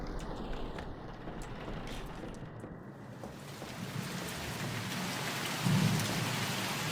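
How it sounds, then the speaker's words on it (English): Rain outside in the horror game The Mortuary Assistant: a steady, heavy downpour with a low thundery rumble that grows slightly louder toward the end. "It's raining outside"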